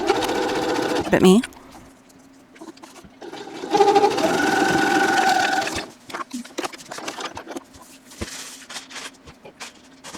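A sewing machine stitches an insulated tote liner closed in a steady whirring run, pausing and restarting, with a voice speaking over parts of it.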